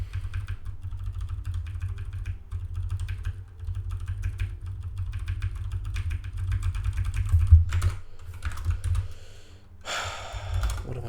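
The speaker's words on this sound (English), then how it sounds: "So there's some, keyboard sound." Steady, close typing on a computer keyboard, quick clattering keystrokes in irregular bursts over a low hum, with a louder flurry near the end and no talk.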